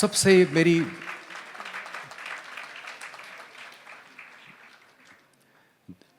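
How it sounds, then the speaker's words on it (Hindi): Audience applause at a Vande Mataram gathering, a loud burst of clapping at the start that thins into scattered claps and fades over several seconds, with a few sharp sounds near the end. "जोरदार तालियों से आइए हम सब अपनी उपस्थिति को रेखांकित करें।"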